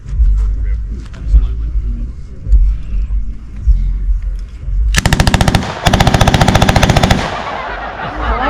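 WWII-era submachine guns firing blanks at an outdoor historical weapons demonstration: two loud, rapid automatic bursts of sharp cracks close by, preceded by a low rumbling murmur of background noise.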